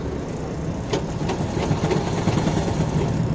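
A tailor's sewing machine stitching in a small South Indian shop gives a low, steady mechanical whir and rattle, fairly quiet and continuous throughout.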